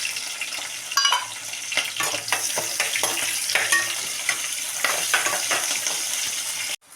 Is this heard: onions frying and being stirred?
yes